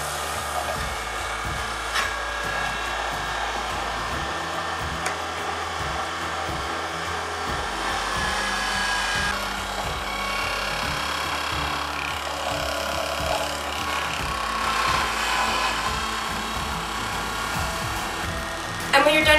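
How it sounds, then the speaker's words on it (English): A Novis VitaJuicer grinds handfuls of wheatgrass, a steady motor whine with rough rubbing and shredding texture that persists close up, with brief thumps near the end and a voice talking over parts of it. "Remove the pusher, and with little handfuls, start juicing the wheatgrass."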